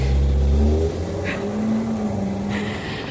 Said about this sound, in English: a UPS truck.